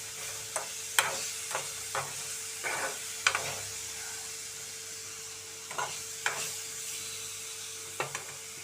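Green chilli pieces fry in a pan under a soft, steady sizzle, with spoon scrapes and clicks as they are stirred at irregular intervals.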